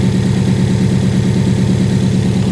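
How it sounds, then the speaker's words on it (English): A Mercedes GLE 450 engine idles smoothly up close, with an even, rhythmic low pulsing from the exhaust that hints at a slight misfire, and no voices. "If this engine is misfiring, it's one of the best, smoothest idling engines I've ever seen with a misfire."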